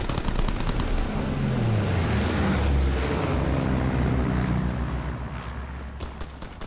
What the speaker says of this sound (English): Enemy recon aircraft observed.